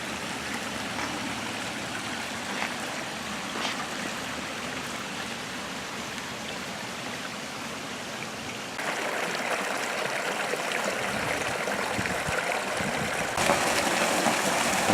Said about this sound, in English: A fountain filled with water